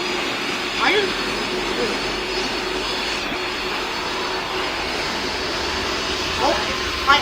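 Steady jet engine roar of an airliner in the Roblox PTFS flight game, a continuous broad drone running throughout with a few brief swells.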